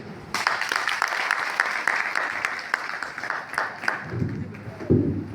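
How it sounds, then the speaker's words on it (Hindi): Classroom clapping during a teacher's lesson, a few seconds of brisk hand claps from students that thin out toward the end. "ताली बजाओ।"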